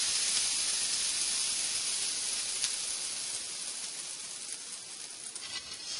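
Butter sizzles in a crepe pan, a steady soft hiss that stays faint and even for several seconds with no talking.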